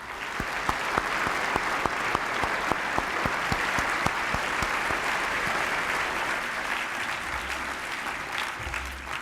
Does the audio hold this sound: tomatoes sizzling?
no